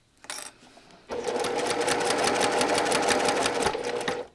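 Sewing machine stitches through fabric and foam layers for a sunglasses case, a short burst of stitching, then a steady close, rapid mechanical rattle for about three seconds before stopping.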